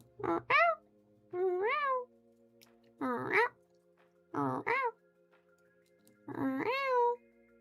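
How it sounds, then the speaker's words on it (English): Indoor house cat meowing up close, five distinct drawn-out meows with rising-falling pitch spaced by short pauses, loud and clear over a faint steady background hum. "I do have a cat in here."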